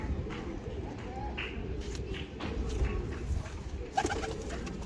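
Pigeons coo softly in the background amid a steady low ambient hum, with a few scattered bird calls and a brief sharp knock near the end.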